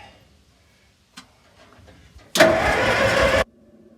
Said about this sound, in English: Now I'm going to hook some gas up, see if it fires.